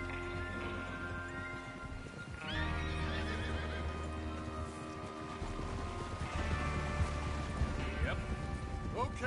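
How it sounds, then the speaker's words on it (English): In the Red Dead Redemption 2 video game, horses whinny and clip-clop at a gallop amid a soft, rain-like wash of background noise, with voices talking now and then. "Get your horses ready."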